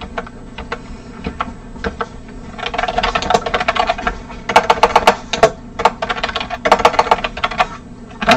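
Rapid clicking of keys on a computer keyboard, uneven bursts of typing with short pauses, close and fairly loud.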